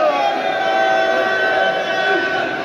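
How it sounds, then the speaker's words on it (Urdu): Devotees at the Lal Shahbaz Qalandar shrine in Sehwan raise a dense, loud crowd roar of chanted slogans, many voices blending into a sustained, close wall of sound throughout. "یہاں پر ان کے چاہنے والے منور ہیں اور نعرے لگاتے ہوئے ان کی زیارت کر رہے ہیں"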